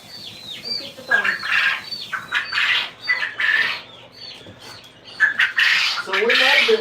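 Male and female chickens and quail in an incubator room with baby chicks give repeated squawks and clucks, fairly close and loud, in bursts throughout, with some faint background noise.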